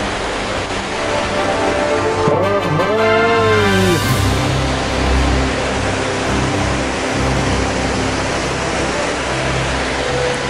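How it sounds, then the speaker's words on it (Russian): Steady broadband roar of a waterfall on a mountain trek in the Bavarian Alps near Kochelsee, loud and continuous throughout, with someone briefly speaking over it early on. "Слышится звук водопада."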